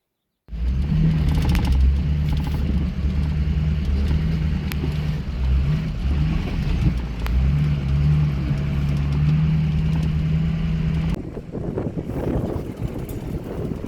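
A four-wheel-drive vehicle on a canyon trail, a loud steady engine drone with heavy wind rumble, continuous and close, easing slightly near the end.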